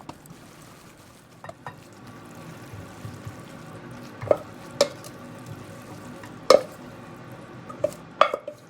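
Khanom jeen rice noodle salad with pork balls being stirred in a bowl, soft scraping and mixing with a few sharp clinks of the utensil against the bowl, close and fairly quiet.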